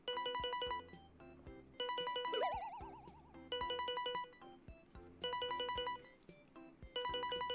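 A phone rings in the Rivalhearts dating sim video game, a repeating electronic ringtone in bursts of bright beeping tones with short gaps, over game background music, with no talk.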